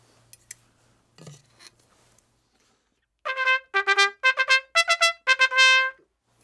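Trumpet played with a straight mute: a run of about eight short, bright, nasal notes in a quick rhythmic phrase, close and clear, after a few faint rustles and handling clicks.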